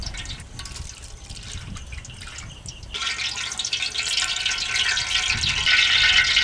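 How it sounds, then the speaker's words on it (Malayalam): A faint trickle gives way partway through to a louder, continuous stream of oil poured into a pot of mutton biryani, close by and growing steadily. "ഓയിൽ ഒഴിക്കുക."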